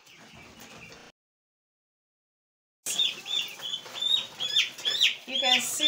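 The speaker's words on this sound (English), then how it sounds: "You can see the chicks." Young chicks cheep on a poultry farm, a brief soft patch, then silence, then a dense run of high, close peeps and chirps that keeps going to the end.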